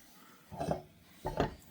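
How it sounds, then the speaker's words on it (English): A spoon scrapes twice through a butter and flour roux in a pan while making lasagna sauce, two short, close rubbing strokes with a quiet pause between them. "Stirring, stirring, butter and flour together"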